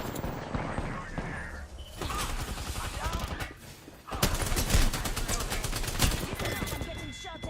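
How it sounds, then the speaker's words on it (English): Rapid video game gunfire crackles in dense bursts, loud and continuous, with mechanical clatter and a sharper surge of shots partway through. "I'm getting shot at."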